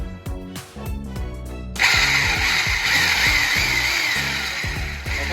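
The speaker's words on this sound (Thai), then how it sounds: "เจาะนำน่องไปก่อนครับแล้วก็เจาะเป็นรูครับ" An impact drill starts with rapid hammering bursts, then settles into a loud, steady high-pitched whine as it bores a hole for mounting a roller blind, close by.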